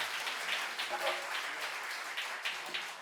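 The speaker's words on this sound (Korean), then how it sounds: "우리 한번 큰 박수로 환영하겠습니다." Congregation at a Korean church service clapping to welcome a visiting guest pastor from Poland, a short burst of applause with a voice speaking over it.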